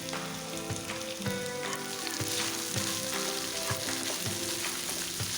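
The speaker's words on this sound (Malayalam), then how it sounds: "നമുക്ക് ഈ ബീഫ് അതിലേക്ക് ഇട്ട് കൊടുത്തിട്ട് നന്നായിട്ടൊന്നിങ്ങനെ വറുത്തെടുക്കാം" Beef fries in hot coconut oil in a pan, a loud continuous sizzle with crackling bursts and occasional stirring scrapes, close and alone without talk.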